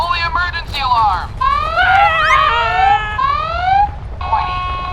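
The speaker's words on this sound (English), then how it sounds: "Fully emergency alarm!" A Matchbox volcano playset's electronic emergency alarm wails with rising and falling siren tones, loud and close, mixed with excited voices.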